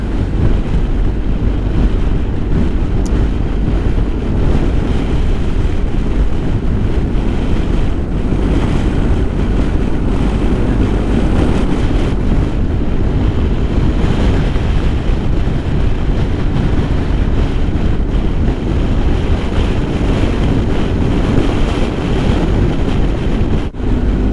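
Strong wind blows steadily across open autumn or winter hills in Wicklow, Ireland, with pine trees nearby, a loud continuous rumbling roar buffeting the microphone for the whole stretch, with no voices.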